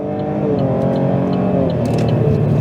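A Holden Commodore accelerates in manual mode, its engine note rising loud and close in a continuous, building drone.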